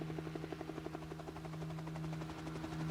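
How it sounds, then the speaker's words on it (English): A helicopter flying close overhead in the video game Steins;Gate 0, its steady rotor chop pulsing rapidly over a constant low engine hum, loud and continuous throughout. "She could hear a helicopter."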